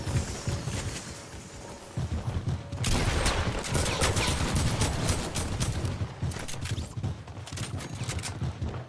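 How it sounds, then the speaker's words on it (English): Bottle rockets fire during a battle in a video game, producing dense, loud crackling volleys of pops and bursts that build and stay busy through most of the stretch. "That's a look at the bottle rockets in battle."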